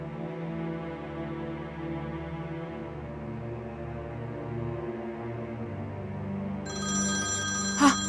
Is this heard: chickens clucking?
no